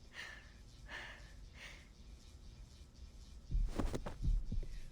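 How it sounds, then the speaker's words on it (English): A heartbeat pounds in the video game Reverse 1999, low muffled thumps that build and grow heavier and louder toward the end, under a dark ambient drone. "feeling her heart pounding louder and louder"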